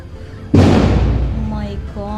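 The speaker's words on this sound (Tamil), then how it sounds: "செம்மையா பட்டாசு சத்தம் ஃப்ரெண்ட்ஸ்." A single loud firecracker explodes outdoors at night with a sudden sharp bang whose rumble trails off over a second or so, followed by a voice.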